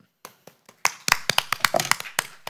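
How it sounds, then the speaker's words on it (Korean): A handful of audience members clap at a Korean parents' education forum. It opens as a few sparse, separate claps, then thickens into light, uneven applause, close and not very loud. "박수 보내주십시오."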